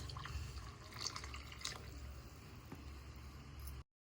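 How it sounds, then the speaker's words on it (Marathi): Water pours steadily into a clay pot with splashy, bubbling texture and a few bright drips, close by, then cuts off abruptly near the end. "त्याच्यात पुन्हा भांडं घेसून थोडंसं पाणी घालायचं"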